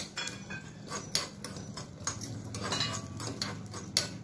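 Poppy seeds added after cumin and sesame and roasted in a pan for a Kolhapuri white rassa, with faint scattered ticks and light clinks of a spoon against the pan, quiet and close.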